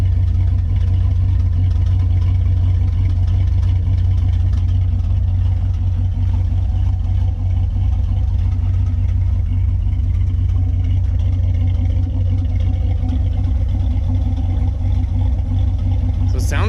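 A warmed-up Dodge Dakota R/T engine idles steadily with a deep, continuous low rumble and a faint ticking from the exhaust, heard alone and fairly loud throughout.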